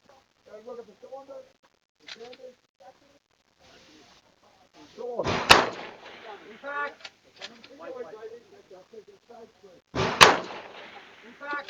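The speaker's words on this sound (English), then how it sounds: "So she's shooting very well." Two loud, sharp rifle cracks ring out at a precision rifle shooting competition, spaced several seconds apart, with people talking around and between the shots.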